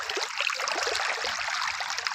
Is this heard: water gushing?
yes